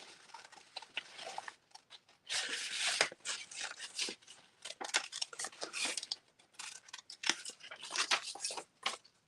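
Scissors roughly cutting paper shapes out of a page for a collage, a close run of crisp snips and rustling paper in irregular bursts, quiet, with no talking.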